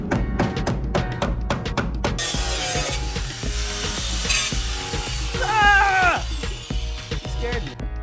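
A drill bores out spot welds on the steel floor pan of a VW Bus, with sharp repeated metallic bursts early on, then grinding and squealing bit-on-metal sounds up close, while a voice talks at times.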